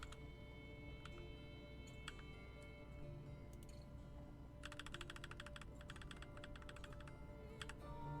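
Typing on a computer keyboard during a Linux lab exercise, with bursts of rapid key clicks including repeated backspace presses, close and moderately loud over a steady low hum.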